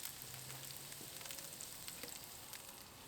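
Herbs and garlic sizzle quietly in hot oil around potatoes, a soft steady frying hiss with faint crackles throughout.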